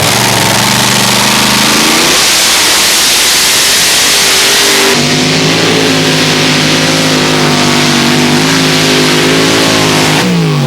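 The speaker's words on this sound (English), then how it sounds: "and the last in the pull-off, Lambada 3, driven by Gert's father Willem" A pulling tractor's supercharged engine roars loud and close at a European tractor pulling championship, revving hard in sustained bursts with a sharp pitch shift partway through, then dropping off near the end.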